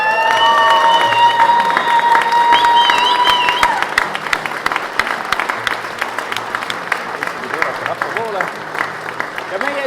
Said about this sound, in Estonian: teeme suure aplausi neile veel